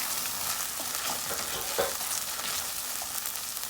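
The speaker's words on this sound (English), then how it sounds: "let this tomato paste fry up until all the rawness is gone" Tomato paste fries in a pan with a soft, steady sizzle, punctuated by a few faint stirring scrapes and small crackles, fairly quiet and close.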